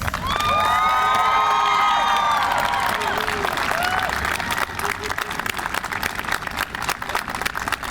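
Audience at a city fire bureau firefighter graduation ceremony breaks into sustained applause and cheering, with whoops and shouts rising above steady clapping throughout.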